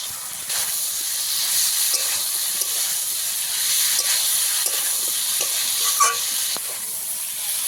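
Tomato and potatoes sauté in a pan for a fish and potato curry, giving a loud continuous sizzle and hiss with occasional scrapes of stirring, close up and without speech.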